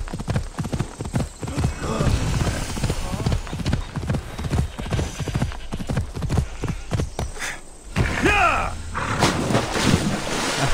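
Rapid, steady hoofbeats of a horse in the video game Assassin's Creed Odyssey clip-clop throughout over wind noise, briefly pausing before resuming, with a horse whinnying near the end.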